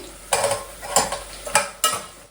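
Onions, green chillies and carrot with spices sizzle in a pan as a spoon stirs them, four distinct scraping stirs over a steady frying crackle, close and fairly loud.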